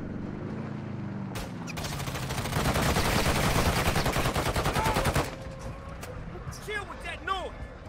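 Rapid automatic gunfire in Warzone Mobile, a fast burst of close, loud shots lasting a few seconds amid game effects, with voices talking around it.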